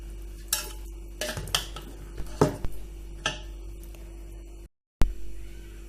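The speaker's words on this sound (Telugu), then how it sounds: "చల్లారిపోయిన మసాలా ముద్దని ఈ మామిడికాయ ముక్కల్లో వేసుకుని బాగా కలుపుకోవాలి." A spoon stirs a cooled, sticky masala paste through raw mango pieces for a sweet pickle, making a run of wet squelches and scraping clinks against the bowl, close and moderately loud, followed by a short silence.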